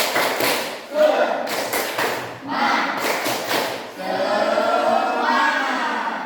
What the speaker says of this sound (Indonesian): kita tepuk semangat dulu ya, biar semangat